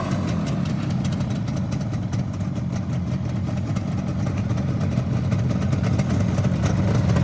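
A rebuilt 1981 Yamaha RD350LC two-stroke motorcycle engine idles, a steady low rumble with a fast, even pulse that stays constant and close, with no talk.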